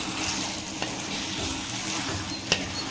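Chicken roast, village style, frying in plenty of sesame oil in a pan: a steady, close sizzle with stirring scrapes throughout and one sharper clack near the end, no voices.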